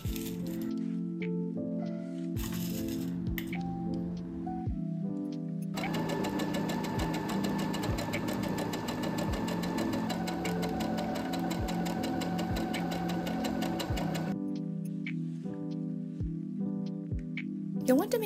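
A sewing machine runs in a steady, fast stitching burst while ruffles are sewn onto the sides of a dress bodice, stopping and starting around it amid quieter handling noise.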